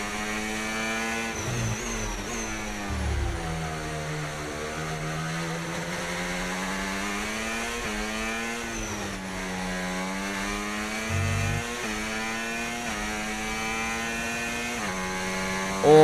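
An F1 race car engine in the F1 25 video game runs under strain with a missing seventh gear, its steady harmonic whine bogging and sagging instead of shifting cleanly, loud and continuous with no talking.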